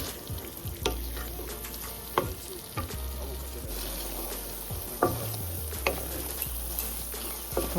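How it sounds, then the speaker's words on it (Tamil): Tomatoes and onions sautéing in oil for Tamil-style mushroom pepper masala, a close continuous sizzle broken by regular spatula stirs and scrapes against the pan, with no voices. "நல்லா வதங்கட்டும் எண்ணெயிலே தக்காளி நல்லா வதங்கணும்"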